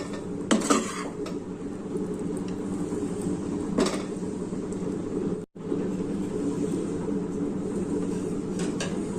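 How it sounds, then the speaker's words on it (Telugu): A spoon stirs cooked ponnaganti leaf and toor dal curry in a pan before it is moved into a bowl. Soft metallic scraping runs throughout, with a few sharper clinks of utensil against cookware. "ఇప్పుడు కలిపేస్తానండి అంతా బౌల్లోకి తీసేసుకోవాలి"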